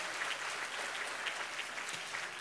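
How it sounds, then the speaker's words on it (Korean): A church congregation applauds at an evening worship service, a steady wash of clapping from many hands that holds throughout without letting up. "이 밤에 우리 어린 친구들 쉽지 않은데 박수 한번 쳐주십시오."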